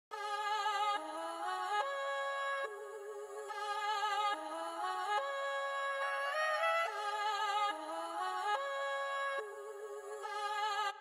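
Cymatics Infinity Drill Vocal Chop 9 loop pitched up, a bright, tuneful synthetic vocal phrase with warbling sustained notes and pitch slides, repeating in even sections over about eleven seconds, playing alone.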